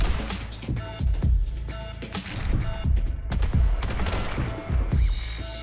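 Gunfire in The Hong Kong Massacre, a dense run of loud, repeated shots and crashing impacts in quick irregular succession throughout.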